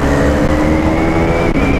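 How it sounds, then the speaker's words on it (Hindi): Engines of bikes in a drag race on a road ride to Barvi Dam, Badlapur, roar loud and continuous, a steady sustained revving drone with no voices. "drag race,"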